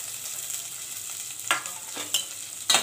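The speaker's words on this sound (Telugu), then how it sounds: "వీటిని బాగా ఫ్రై చేసుకోవాలి" Onions and green chilies for majjiga upma frying in a pan, a soft steady sizzle broken by three sharp scraping stirs of a spatula near the end, close and without speech.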